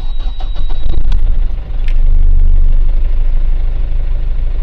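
A car engine cranks briefly, catches, then settles into a steady, loud idle rumble close by.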